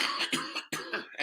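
A man coughs three or four times in quick rough bursts, close and loud, on a podcast recording.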